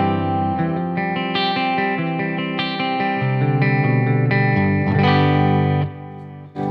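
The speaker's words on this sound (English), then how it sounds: "kind of a really nice pure clean tone that works really good for, you know, pushing with pedals and stuff" Electric guitar played through a Marshall-inspired amp with a Plexi output transformer, set to a clean channel: a run of loud, ringing plucked notes and chords for several seconds, alone and without talk.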